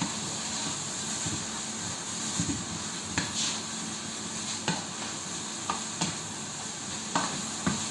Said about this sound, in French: Donc là je remue encore un peu les courgettes, les oignons, les aubergines pour faire fondre tout ça.